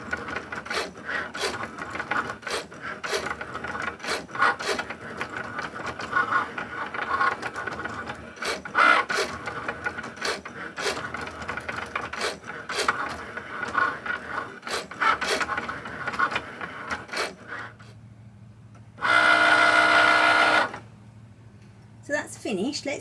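A Cricut cutting machine works through pieces on a snap mat, giving off a busy run of clicks and small mechanical ticks close by, then a short steady motor whir near the end.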